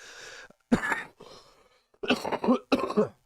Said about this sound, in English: I have a horrible cough